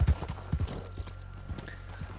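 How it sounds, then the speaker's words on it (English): Horse hooves clip-clop in Red Dead Redemption 2, a few quiet, uneven thuds spaced about half a second apart over a low steady background hum, with no talking. "Our horse is, like, acting up quite bad"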